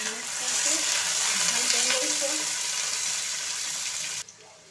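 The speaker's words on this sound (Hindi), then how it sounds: "अभी देखो आलू अच्छे से फ्राई हो गई है" Raw potatoes frying in a pan with curry leaves, garlic and green chilies, a loud steady sizzle with stirring scrapes close by that cuts off sharply near the end, leaving a quieter hiss.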